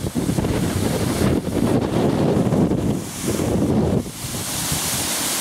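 Strong wind gusts roar across an open hillside in Swaledale on a windy day, buffeting the microphone in loud broadband surges that ease briefly before rising again, with no talking.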